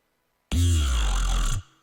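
A synth sound run through a phaser set to zero rate, so the effect stays still. One loud, bright sustained note with a heavy low end lasts about a second after brief silence, then stops sharply, with no talking.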